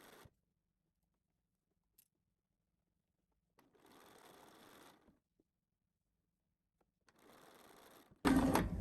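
Sewing machine stitching trim onto a detachable collar, in two short steady bursts of whirring needle action separated by quiet pauses, close and fairly soft, ending with a louder burst.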